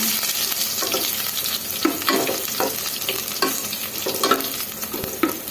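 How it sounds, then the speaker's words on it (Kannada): Garlic and curry leaves fry in a pan, a loud, continuous close sizzle punctuated by repeated scraping stirs, with no talking. "ಇವಾಗ ಬೆಳ್ಳುಳ್ಳಿ ಕರ್ಬೇವಿನ ಸೊಪ್ಪು ಸೇರಿಸ್ಕೊಳ್ಳೋಣ ಎಲ್ಲ ಸೇರಿಸಿ ಈ ಥರ ಫ್ರೈ ಮಾಡ್ಕೊಳ್ಳೋಣ"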